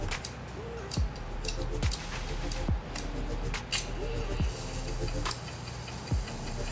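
Buttons on an Adzero page turner remote control are pressed one after another, giving sharp, close clicks at a steady pace about once a second over a faint room hum.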